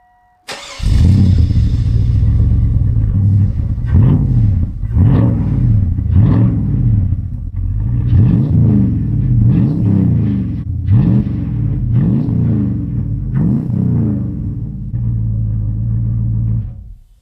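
A moped engine fitted with an aftermarket exhaust idles and runs nearby, a loud deep rumbling drone with repeated rhythmic revving surges over about sixteen seconds.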